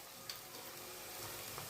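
Garlic-ginger paste sautéing in a pan on low heat for a toor dal samosa filling gives a steady, soft sizzle and frying hiss, close by and continuous, with a faint stir near the start and no voices.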